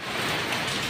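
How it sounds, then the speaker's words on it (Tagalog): Heavy rain pours outside a house on a dark afternoon, a dense, steady hiss of water hitting surfaces with no breaks or pauses. "ang lakas ng ulan"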